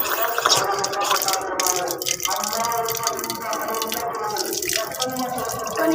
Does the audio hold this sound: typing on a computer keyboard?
no